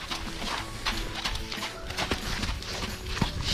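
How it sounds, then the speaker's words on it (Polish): Horse hooves clip-clop at a steady walking rhythm during a riding session, fairly close and moderately loud, over a busy background. "To idą konie."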